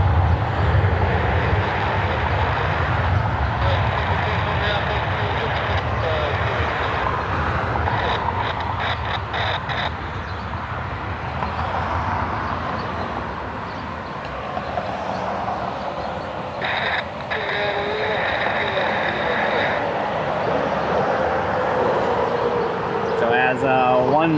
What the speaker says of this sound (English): One Embraer heads out.